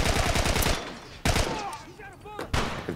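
A huge gun in The Last of Us fires rapid bursts of shots, a fast rattling volley followed by two sharp single reports, loud and close, with faint voices in between.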